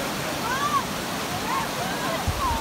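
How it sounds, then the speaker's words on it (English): River water rushes in a steady broadband roar at a backcountry river crossing in the Maroon Bells–Snowmass Wilderness of Colorado, close and continuous, with faint bird chirps over it. "Hey Josh, how good did that river crossing feel?"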